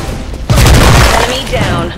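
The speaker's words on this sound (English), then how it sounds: "Frag out! Grenade!" A grenade blast in the Special Force 2 shooter game, a sudden loud boom with a rumbling, crackling tail that fades over a second or so, heard once and close.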